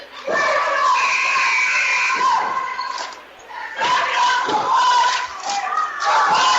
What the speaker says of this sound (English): Keep up the cheers for him.